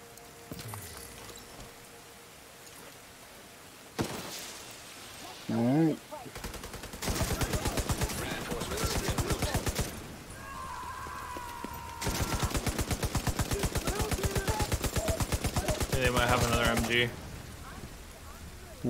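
Video game machine gun fire: long rapid bursts of automatic shots, loud and close, separated by quieter stretches with other game noises, and a voice speaking in places.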